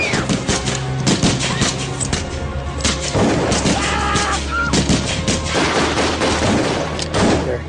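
Dense, continuous gunfire with heavy booming volleys and overlapping shots, loud and close, sustained without pause beside an airplane on an airstrip during a mass killing.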